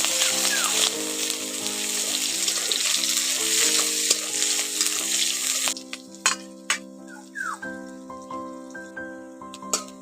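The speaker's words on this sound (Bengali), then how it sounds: "পেঁয়াজটাকে একটু ভালো করে ভেজে নেব।" Chopped onion fries in oil with cardamom in a wok, a constant sizzle under background music that gives way to sharp spatula scrapes and clatters against the metal.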